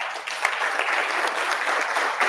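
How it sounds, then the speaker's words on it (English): An audience claps steadily, a full burst of applause from a crowd at a ministerial conference. "You deserve a clap, I think."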